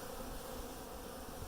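Honeybees buzz in a dense, steady swarm drone around a nuc box hive, recently collected and installed colony, continuous and close without pause.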